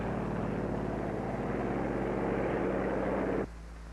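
Control planes launching from an aircraft carrier give a steady, loud engine drone with no talk. It holds evenly, then drops abruptly to a quieter hum just before the end.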